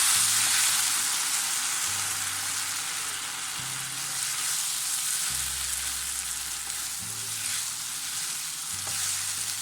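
Koottu curry mix with curry leaves sizzles steadily in a hot pan while being stirred, a continuous close frying hiss with faint repeated scraping underneath.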